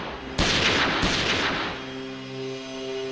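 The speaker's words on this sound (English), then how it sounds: "Suddenly, he hears gunshots." Two sharp, loud gunshots crack in quick succession close by, each followed by a ringing, decaying tail that fades into a steady tonal hum.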